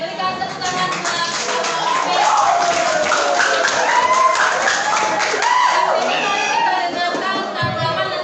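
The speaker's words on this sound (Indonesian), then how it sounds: "Oke, berikan tepuk tangan" Audience applause at a school student council candidates' debate: a mixed crowd claps steadily while voices carry over it.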